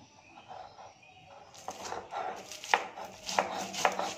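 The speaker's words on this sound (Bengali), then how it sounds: "এবার চিংড়ি মাছগুলোকে শিলের উপর রেখে সমস্ত উপকরণগুলো একসাথে বেটে নেব।" Prawns are ground with mustard, chilli and spices on a stone grinding slab. After a quiet start, steady rhythmic scraping and knocking strokes of the grinding stone begin, close and fairly soft.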